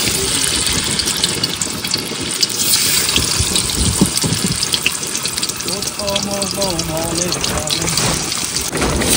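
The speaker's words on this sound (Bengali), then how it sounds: "তাহলে তেল গরম হয়েছে, মাছ দিয়ে দিলাম।" Catla fish frying in hot oil on a rainy day beside a Sundarbans river, a steady broadband sizzle and spatter running throughout, with voices talking over it in the latter part.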